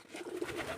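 Healthy local Bangladeshi pigeons give a short, low rolling coo while feeding, close by and moderately faint in a single brief burst.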